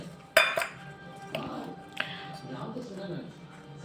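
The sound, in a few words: mixing gram flour stuffing with a spoon in a bowl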